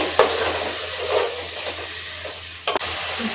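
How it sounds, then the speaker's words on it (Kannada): Tomatoes with salt frying in oil, a soft, steady hiss close by with a few faint stirring scrapes and a brief clatter near the end. "ಸ್ವಲ್ಪ ಫ್ರೈ ಆಗಲಿ"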